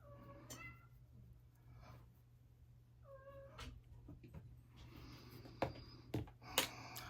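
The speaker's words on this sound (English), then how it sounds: "That's our orange cat." An orange house cat meows several times in a quiet room, its short rising calls standing out clearly, with a few faint clicks and taps near the end.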